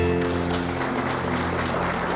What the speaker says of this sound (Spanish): Aplauda a Cristo.